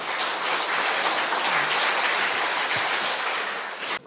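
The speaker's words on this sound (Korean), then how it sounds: "박수로 맞이하겠습니다." Audience applause welcoming a philosophy professor to the podium at an academic spirituality conference, a dense, steady wash of clapping that holds for about four seconds and then cuts off abruptly, with no voices over it.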